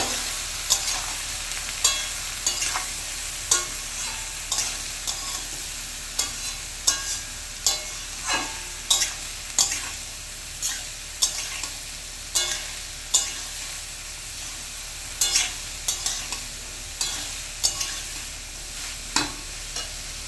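Katla fish head curry is stirred in a pan with a constant low sizzle and repeated sharp scrapes and knocks of a spatula against the pan, roughly every second, close and with no talking.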